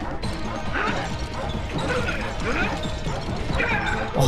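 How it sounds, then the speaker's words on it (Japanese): Busy, steady video game background music from Super Mario Odyssey, with dog-like barking mixed into the score and several sharp clanking hits throughout. It plays continuously, with no talking. "この BGM ワンワンの鳴き声入ってるんだ"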